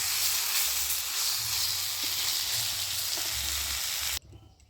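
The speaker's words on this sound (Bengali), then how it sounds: "সজনা ফুলটা ভাজা আমার রেডি হয়ে গেছে, আমি এবারে নামিয়ে নিচ্ছি" Sajna (drumstick) flowers and eggplant fry in a pan with a loud, continuous sizzling hiss that runs steadily and then cuts off abruptly near the end.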